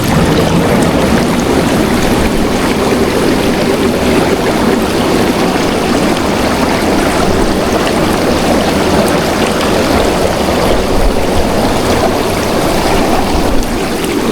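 Water pouring steadily into a freshly cleaned, chlorinated tank at a home in the Philippines, a continuous close rushing and splashing that holds an even level throughout with no voices.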